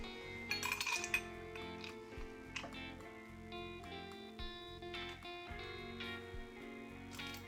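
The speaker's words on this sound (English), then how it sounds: "Now double strain into a double rocks glass using a julep strainer." A Japanese old-fashioned with ginger and strawberries is double strained through a julep strainer into a double rocks glass, heard as close, bright glassy clinks and ice rattles over a soft, continuous pour.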